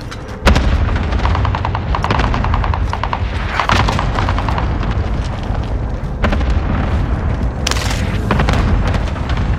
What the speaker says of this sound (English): A Nebula 5 bomb has been deployed.